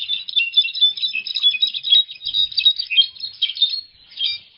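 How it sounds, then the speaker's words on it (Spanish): A goldfinch sings a rapid, continuous run of high twittering and trilling notes with only brief pauses, close and clear against otherwise silent surroundings. "era solo un jilguerito que estaba cantando frente a su ventana"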